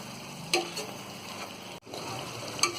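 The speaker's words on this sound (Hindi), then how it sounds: "टमाटर डालने के बाद में 2 मिनट हमने इसे भून लिया है" Mutton and tomatoes sizzle as they roast in a pan, a steady frying crackle with occasional clinks of a stirring spoon, close up and with no talking.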